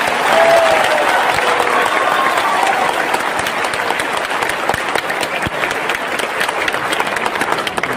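Loud, sustained applause from a large crowd in a convention hall during a speech event, dense clapping that stays strong throughout and eases only slightly toward the end.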